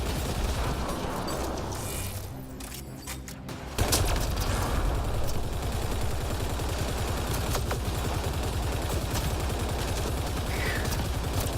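Dense, sustained automatic gunfire from a weapon in the video game Mass Effect Andromeda, a rapid steady stream of shots that swells louder partway through and keeps going alongside game noise.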